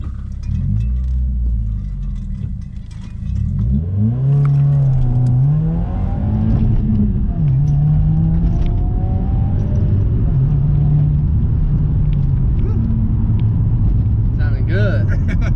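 A Subaru WRX fitted with a new cat-back exhaust, its engine rumbling close by and revving up and down in several swells, with voices talking over it.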